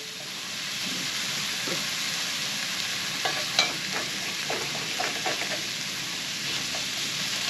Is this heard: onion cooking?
yes